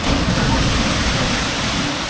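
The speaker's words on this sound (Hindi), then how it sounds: "और पानी का क्या जोरदार आवाज आ रहा है।" Rough sea waves crash against a rocky beach, a dense, steady roar of rushing water that stays loud and close throughout.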